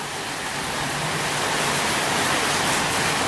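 Warm tropical downpour in Koh Samui, Thailand, a steady, dense hiss of heavy rain close by, unbroken and even in loudness, with no voices.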